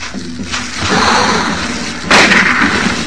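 A rifle fired in Silent Hill 1, a sharp booming report followed by a second loud crack a moment later, both close and heavy over a dense game soundscape.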